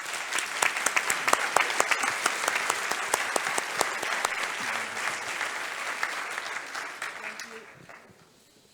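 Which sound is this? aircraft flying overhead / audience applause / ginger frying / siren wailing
audience applause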